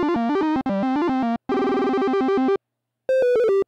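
A Picotron chiptune arpeggio plays backwards at altered speed: bright, buzzy synthesized notes in rapid stepping runs, grouped into several bursts separated by short gaps, loud and close with no talk.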